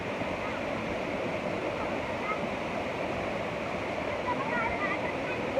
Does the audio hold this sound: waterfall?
yes